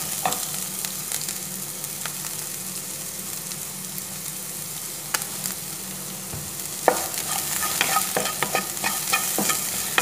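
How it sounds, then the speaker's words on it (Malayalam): Finely chopped ingredients and curry leaves being sautéed for a green pea and egg thoran, with a continuous close sizzle under steady stirring and light spoon scrapes that grow busier toward the end, no talking. "പിന്നെ ഒരു രണ്ട് കറിവേപ്പില ഇതൊന്ന് വഴറ്റി കൊടുക്കാം"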